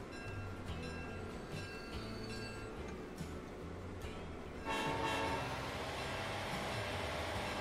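Trains rumbling in the Transport Fever 2 game on a Crater Bay map, with a steady tonal horn through the first half, then a louder, denser rolling rail noise that continues to the end.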